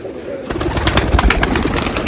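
Caged pigeons at a large pigeon farm coo in a busy mix of repeated calls and rustling, fairly close, with faint background chatter.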